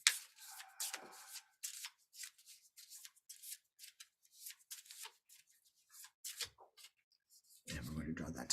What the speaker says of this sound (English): I'm shuffling, as you can see.